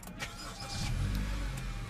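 A 2017 Honda Accord's 2.4-liter four-cylinder engine starting by push button, a brief crank and catch settling into a steady idle inside the car, fairly quiet with no talk.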